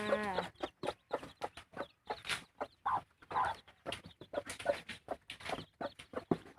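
Chickens cluck and squawk in quick, irregular bursts, close and fairly loud, with one drawn-out rooster-like call near the start.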